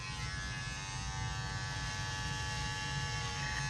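Electric hair clippers buzz steadily and close up while cutting a low drop fade, a constant bright motor hum with no breaks and no talking.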